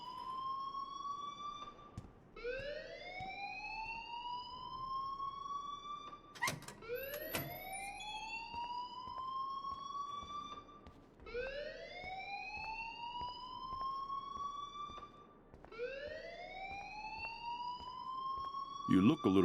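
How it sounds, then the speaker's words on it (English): A school fire alarm in the Life is Strange video game wails in repeated rising electronic sweeps, each lasting about two seconds and looping continuously at steady loudness, with faint background sound underneath. "please turn off that alarm since that's your job"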